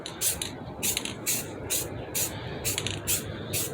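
A spray paint can sprays a wheel rim in short, repeated hissing bursts, roughly eight of them in a steady rhythm, close and clear over a quiet background hum.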